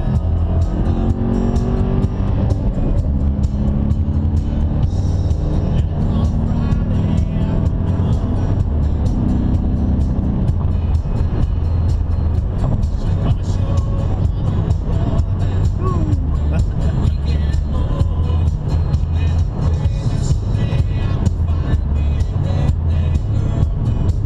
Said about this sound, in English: downshift to the third and have some fun here.